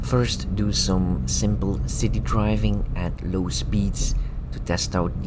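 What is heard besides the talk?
No distinct noise like a dog, phone or traffic.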